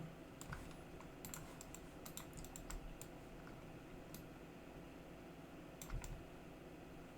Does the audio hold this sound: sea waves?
no